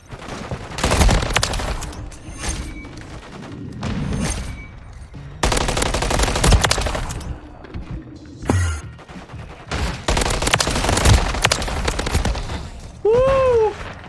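Gunfire in Call of Duty: Modern Warfare III, loud bursts of rapid automatic fire in several separate volleys with short gaps between them, ending in a rising electronic whine.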